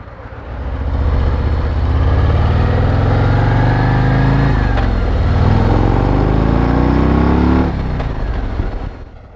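A 2024 Harley-Davidson Road Glide's V-twin engine rumbles loud and close, revving up through rising pitch, easing off briefly, then pulling hard again before backing down.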